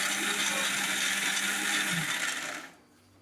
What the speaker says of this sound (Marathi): खोबरं आणि मिरची मिक्सरला बारीक करून घेऊया.